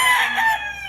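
A bulik bullstag, a young gamefowl rooster at the Lipa auction market, gives one short, loud, close crow that tails off quickly.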